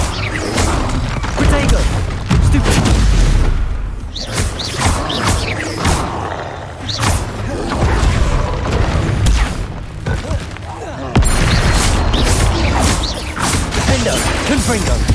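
Bombarda and Confringo spell blasts in Hogwarts Legacy combat: loud, repeated booms, crashes and thuds in rapid irregular succession, with clanking mechanical impacts and continuous action-game noise throughout.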